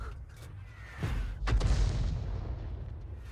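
A leFH18 105 mm howitzer fires in a video game: one heavy booming shot lands about a second and a half in and rolls off in a long, fading low rumble, with no talk over it.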